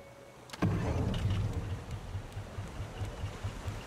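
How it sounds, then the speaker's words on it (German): A boat motor in the video game Raft starts abruptly and settles into a steady, low, rhythmic chugging drone that keeps running at moderate level without talk. "Da müssen wir den Motor einschalten."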